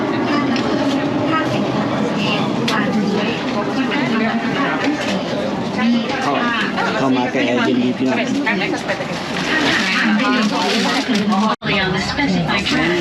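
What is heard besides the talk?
train starting to move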